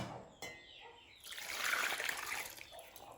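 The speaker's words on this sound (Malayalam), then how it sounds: "ഇതിൽ നമ്മൾ കുറച്ച് വെള്ളം ഒഴിക്കണം കേട്ടോ" Water poured onto grated tapioca to make homemade cassava starch, a soft trickling and splashing that swells after a brief knock and then fades, close by and fairly quiet.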